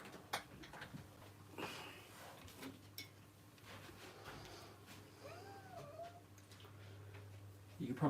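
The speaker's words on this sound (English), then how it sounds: "You can probably hear her in the background." A cat meows faintly in the background of a quiet room, a couple of short calls over a low hum and scattered clicks.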